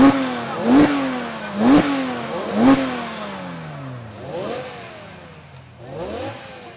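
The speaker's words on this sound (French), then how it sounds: "Bouger les moteurs, ils font en gardant le pied sur le frein." Car engines revved repeatedly while held on the brake, with a series of sharp rising blips and falling revs, the first few loud and close and the later ones softer, with no talking over them.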